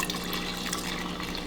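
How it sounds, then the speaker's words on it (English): Beer pouring steadily into a pitcher for a margarita, a continuous liquid fill close by, with an appliance hum underneath. "the first thing we're going to do is we're just going to pour our beer"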